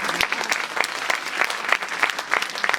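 Enthusiastic audience applause at a live stage comedy show, a dense, steady wash of many hands clapping throughout with no talking over it.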